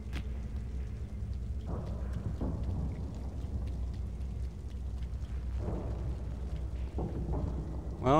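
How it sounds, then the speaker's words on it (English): Steady rain pours in the dark world of the video game Little Nightmares, a dense constant hiss with low rumbling underneath and a few faint thuds. No voices are heard. "A bit rainy."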